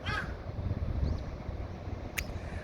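A crow gives one short caw at the start and a faint sharp call later on a street in Yangnam-dong, Busan, over a constant low rumble of wind and distant traffic.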